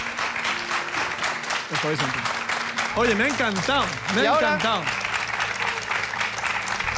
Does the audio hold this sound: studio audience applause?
yes